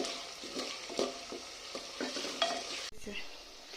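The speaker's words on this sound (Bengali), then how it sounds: "এখন এটাকে আমি একটু নাড়ছি।" Handi chicken being stirred in a sizzling pan, with steady frying crackle under repeated scraping strokes of the spoon, close and moderately loud, with no talking.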